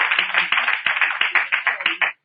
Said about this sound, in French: Alors, il faut applaudir,